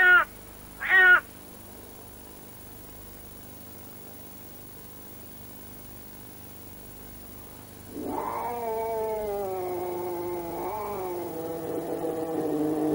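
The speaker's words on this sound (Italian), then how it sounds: "i versi di una gatta in calore sono praticamente irresistibili per tutti i maschi che si rispettino" A female wildcat in heat gives two short, sharp calls near the start, then after a quiet stretch breaks into a long, loud, wavering caterwaul that rises and falls for several seconds, close and alone.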